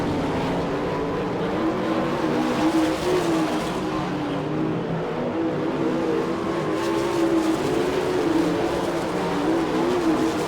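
410 sprint cars racing at the Attica, Ohio season opener, a loud, steady, dense engine roar from the pack that holds for the whole stretch with no talk over it.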